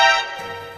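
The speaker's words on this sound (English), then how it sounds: "there is this alert sound that happens every time that you get spotted in the stealth game Metal Gear Solid" Abrupt alert sting from the PlayStation 1 stealth game Metal Gear Solid, played when the player is spotted: a single sharp, bright tonal hit that rings briefly and then decays into a quieter sustained tail.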